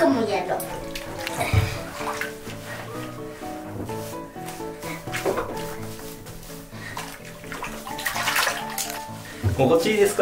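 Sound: water splashing in a bathtub

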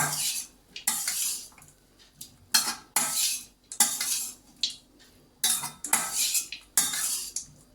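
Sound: stirring coconut rice with coriander in pan

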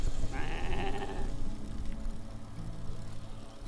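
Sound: sheep bleating in the mountains

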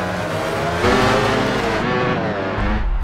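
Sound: racing motorcycle engines

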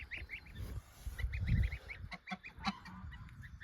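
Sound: goose calling from inside the cage

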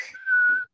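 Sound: person imitating a whistle

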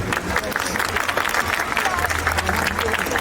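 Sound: audience applause

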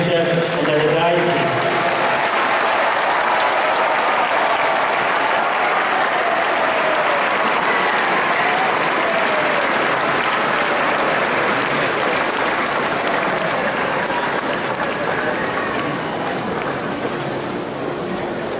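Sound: applause for the new bishop at ordination

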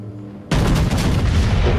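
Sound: naval gunfire from World of Warships video game

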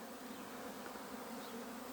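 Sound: honeybees buzzing around hives

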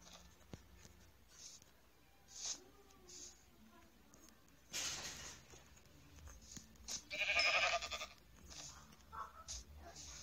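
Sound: sheep bleating in Minecraft video game

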